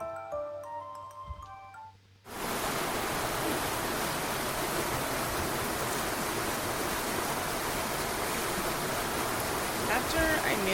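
After a short quiet stretch of faint ticks, dense falling water of a waterfall echoing in a cave swells in abruptly and roars loud and steady to the end as a broad continuous wash.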